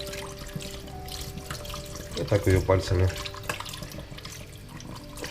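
Potato slices being rinsed under a running kitchen tap for microwave chips: steady close water flow, with a louder burst of splashing as hands move the slices, and a person talking over it.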